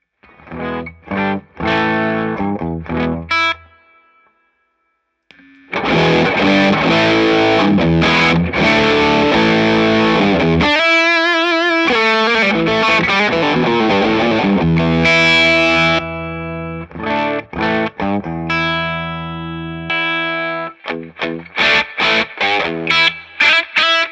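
An electric guitar running through two boost pedals into a Two-Rock amp plays loud, driven chords and riffs, with stabbed strums, a long sustained passage, a brief pause near the start and choppy hits toward the end.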